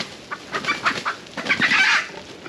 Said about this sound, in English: We've just come into the scrub here for the 4th time to check these fowl traps